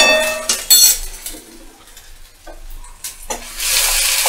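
Ground spices with turmeric and Kashmiri red chili powder sautéing in a pan, a close sizzle broken by scraping stirs and light clinks of a utensil against the pan, with the frying hiss swelling loud at the end.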